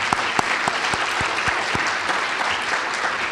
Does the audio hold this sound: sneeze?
no